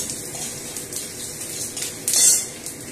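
Panch phoron, bay leaf and dried chilli tempering in hot oil for shukto: soft continuous crackle and sizzle with faint clinks of a utensil against the pan and a brief louder burst of spitting near the end.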